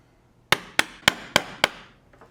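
A mallet strikes a chisel cutting wood set over plywood, five sharp, evenly spaced knocks ringing close by against a quiet workshop background, followed by faint taps.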